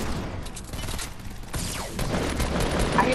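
Rapid video game gunfire crackles in dense, continuous bursts across a loud, busy soundscape, with fuller firing toward the end.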